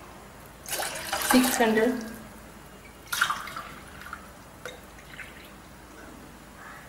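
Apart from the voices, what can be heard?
water being poured for mango frooti syrup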